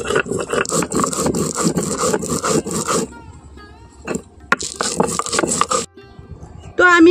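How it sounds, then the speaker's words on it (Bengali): Green chillies and garlic ground together by hand on a grinding stone, giving bursts of rough scraping and rubbing strokes that pause for about a second and then resume, loud and close. "তো এই সবগুলো আমি এখন খুব ভালো করেই বেটে নেব।"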